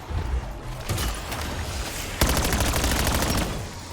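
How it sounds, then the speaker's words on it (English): Firework ammo mod shots in the Black Ops 7 Zombies game, a fast crackling burst of small popping pops that thickens into a dense, loud rapid-fire volley in the second half, with no talking. "So it makes like little mini fireworks that like spray above."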